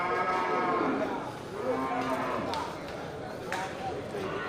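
Cattle at a livestock market, including a male Brangus bull, moo in long low calls over a busy crowd murmur, with a few sharp knocks and people talking nearby.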